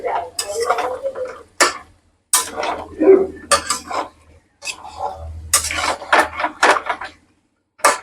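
Chicken being stirred and sautéed in a pan for a simple chicken gravy, with repeated scraping and clinking of a utensil against the pan in short bursts, close by, alongside a speaking voice.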